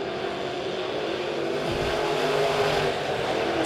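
Modified race cars roar around an oval dirt track at a Thanksgiving-season raceway event, a dense steady wash of engine noise as the field comes off the final turn, with a brief deeper pass sweeping through midway.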